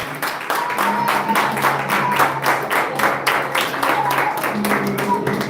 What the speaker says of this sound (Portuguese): Pode aplaudir o Senhor mais uma vez, por gentileza.